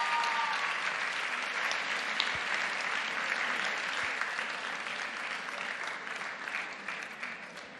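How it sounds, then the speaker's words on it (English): A school theater audience at a camp production of Mrs. Doubtfire claps for the performers, a steady, fairly distant wash of applause that holds evenly throughout with no talking. "a huge round of applause for our wonderful performers"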